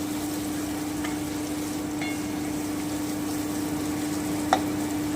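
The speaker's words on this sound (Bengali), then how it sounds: "এবারে আমি ভেজে রাখা আলুটা দিয়ে দিচ্ছি আমি একটু নেড়ে নিচ্ছি" Fried potatoes tipped into a pan of masala for a fish curry with vegetables and stirred, heard as a steady sizzle under a constant low hum, with faint scraping and one small clink near the end.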